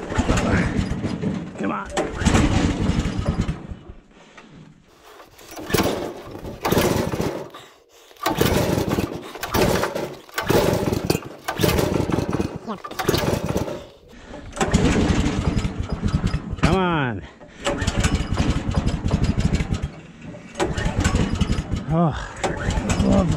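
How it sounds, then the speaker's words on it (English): A portable sawmill engine cranks and sputters in repeated bursts in winter, with mechanical whirring and a few stop-start attempts, loud and close, with brief talk in between. "good thing about starting an engine in the winter here"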